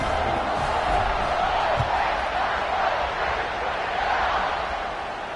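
A stadium crowd roars in a football video game after a scoring drive, ahead of a kickoff: a steady, dense wash of cheering that holds at an even, fairly loud level throughout, with no individual voices standing out.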